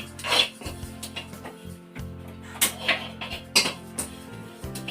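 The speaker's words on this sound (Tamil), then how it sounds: "அந்த சட்டி சூடுலேயே லைட்டாக அப்படியே கிண்டி விடுங்க" Sesame seeds stirred in a hot pan off the heat for sesame candy, with repeated scraping and clinking of a spoon against the pan at an irregular pace, close and clear.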